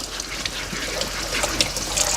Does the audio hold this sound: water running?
yes